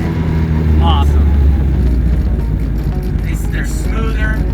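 A 1964 Morris Cooper S engine hums at steady revs from inside the moving car, a loud continuous drone with speech briefly over it.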